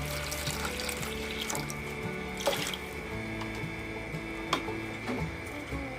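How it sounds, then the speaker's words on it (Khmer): Water runs from a tap and is poured into a fish sauce and sugar mixture, a steady close splashing stream with occasional clinks over the whole stretch. "យើងដាក់ទឹកចូលទៅ"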